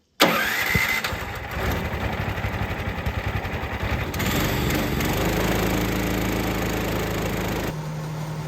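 A bladed machine's small engine, taken up to cut again once its blades grow dull, is pulled over and catches, then roars steadily at close range with a rough, loud drone that shifts pitch partway through.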